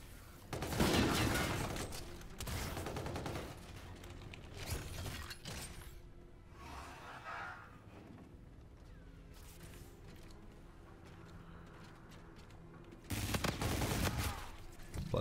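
Bursts of gunfire from Call of Duty: Infinite Warfare, including the KBS Longbow rifle, crack loudly at the start and again near the end, with quieter mechanical game sounds in between.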